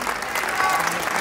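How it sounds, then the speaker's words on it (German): A short burst of dense clapping from a crowd at a women's fitness figure championship, steady and moderately loud, cut off after about a second. "Auch noch mal einen Applaus für unsere Fitnessfigurklasse 2"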